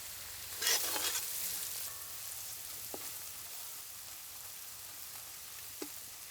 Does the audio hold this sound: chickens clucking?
no